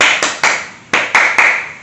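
Children's rhythmic joy clapping from an online Sunday school lesson, six sharp close claps in an uneven pattern, two quick, a gap, then three more with a softer one between.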